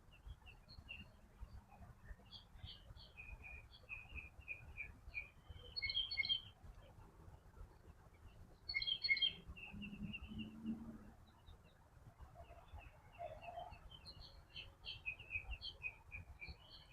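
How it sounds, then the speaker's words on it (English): Birds chirp and tweet throughout, several calling at once in short bursts, over a steady low outdoor rumble like distant traffic or wind. "We're headed over there where you hear all the birds."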